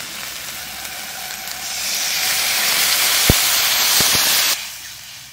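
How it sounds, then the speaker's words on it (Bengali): A Bengali chital fish muitha curry gravy boils in a pan, giving a loud, steady hiss and bubbling that swells, then cuts off sharply, with a few sharp ticks partway through. No one speaks. "এবার এই ঝোলটা জাল উঠে গেছে"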